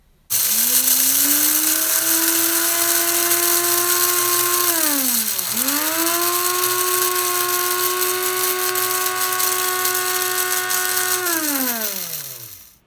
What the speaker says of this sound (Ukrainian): нам потрібно перемолоти насіння солодкого перцю, перебити його у мілкий порошочок